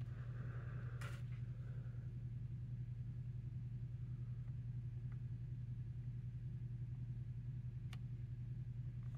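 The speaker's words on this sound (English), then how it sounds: "The drivetrain seems to be working just fine when I spin the flywheels." Flywheels of a Kato N scale D51 200 model steam locomotive drivetrain spun by hand, making a faint, steady low whirring hum throughout with a small click near the start.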